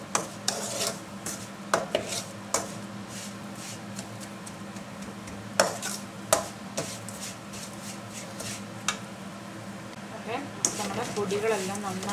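Spice powders being stirred in a pan for kambili naranga (pomelo) pickle, with repeated scraping and clinks of a spoon against the metal, intermittent and fairly close, over a steady background hum.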